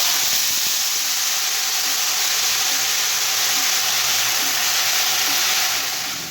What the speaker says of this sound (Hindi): अब हम आलूओं को फ्राई कर लेंगे।